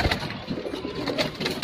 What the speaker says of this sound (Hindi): ये खंडवा का कबूतर है ना